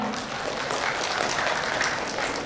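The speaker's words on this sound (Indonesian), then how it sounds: "Tepuk tangan untuk semuanya." An audience claps together at an elementary school farewell ceremony, a dense, sustained wash of hand claps holding at a steady level from start to finish.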